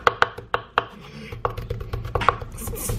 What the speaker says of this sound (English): I feel like I do a terrible job of chopping leaves